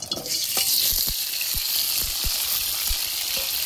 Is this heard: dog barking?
no